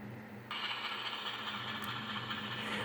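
HO scale Walthers ES44AC model locomotive with ESU LokSound decoder, a diesel prime mover rumble starting abruptly after a brief pause and running steadily, fairly loud and close with a mechanical whirring texture.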